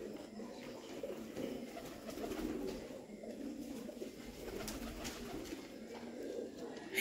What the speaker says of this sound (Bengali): শুধু পায়রা উড়ে বেড়াচ্ছে।